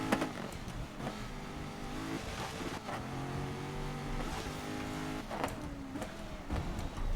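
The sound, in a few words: car engine from video game GRID 2019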